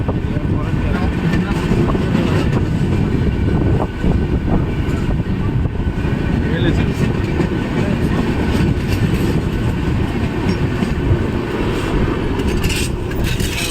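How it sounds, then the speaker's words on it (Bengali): Local train pulling into Panskura station on the Jhargram–Digha route, a steady loud rumble of wheels and carriage noise with wind buffeting, people talking over it throughout. "ট্রেন আমাদের এসে পৌঁছেছে পাঁশকুড়া স্টেশনে"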